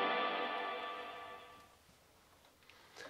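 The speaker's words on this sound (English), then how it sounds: "This is the maximum amount of reverb you can get." A guitar chord through a BluGuitar Amp 1 Mercury Edition at maximum reverb rings out in a heavy wash, its tail slowly fading over a few seconds until only faint room noise remains.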